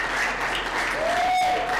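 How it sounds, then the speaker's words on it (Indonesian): Audience applause in a university lecture hall, a short continuous patter of clapping with steady tones running beneath it. "tepuk tangan dulu"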